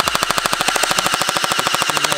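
A Chinese toy gel blaster gun fires in a rapid, steady burst of sharp clicking shots, about a dozen per second, loud and close with no talking.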